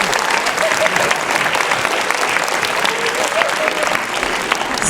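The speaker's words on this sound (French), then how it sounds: "j'aimerais que vous vous applaudissiez tous mutuellement" A concert audience at a student music society show claps together in a dense, sustained round of applause, loud and even throughout, with faint crowd murmur underneath.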